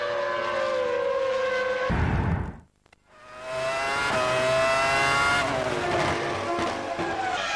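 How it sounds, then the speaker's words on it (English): A Formula One car at the 2000 Spanish Grand Prix roars close by with a high engine whine, drops to a brief lull, then returns as another high-pitched engine note builds and holds, with no voices. "That's Villeneuve pitting."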